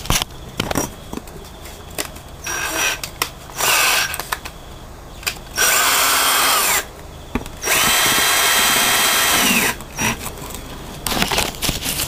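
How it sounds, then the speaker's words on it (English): A cordless drill spinning an OHV engine valve for lapping whirs in several bursts of varying length, close and loud, separated by quieter pauses with handling clicks and rattles. "I get me handy dandy battery drill, stick that on the end of the valve"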